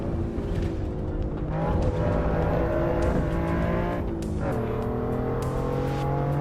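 A race car engine in the video game Assetto Corsa Evo revs and shifts continuously, its tone rising and falling through gear changes, loud and close without talk.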